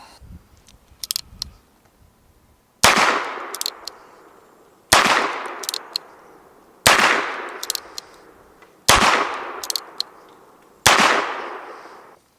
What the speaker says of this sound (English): we'll do a little bit of shooting